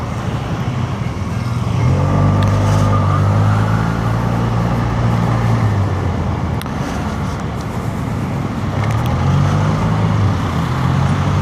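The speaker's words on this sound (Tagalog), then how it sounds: "Naku, traffic pa din." Road traffic on Mindanao Avenue heard from a moving motorcycle, a loud continuous rumble of engines and wind with vehicles droning and accelerating close by.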